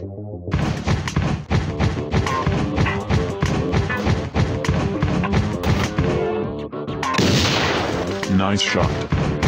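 Rapid, booming gunfire from a robot car transformation video game, a dense stream of heavy shots and thuds over driving music, continuous and loud with a brief burst of debris-like hiss.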